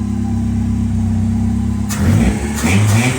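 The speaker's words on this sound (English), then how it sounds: "1983 Mazda RX-7 with a 1992 Mazda Miata engine and transmission swapped in." A 1983 Mazda RX-7 fitted with a swapped-in 1992 Miata 1.6 engine and transmission runs steadily, a loud, even engine hum that rises as it revs partway through.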